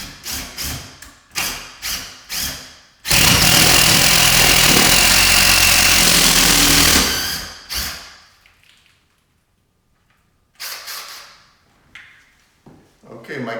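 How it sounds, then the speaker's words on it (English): A power drill bores into a wall stud in one sustained, loud burst of about four seconds, with thumps and handling noises before and after. "So let's drill the first one and hopefully it goes well."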